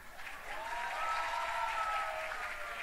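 An audience at a large sociology class session for ENEM exam preparation claps steadily, a dense sustained wash of applause building slightly and holding for a few seconds.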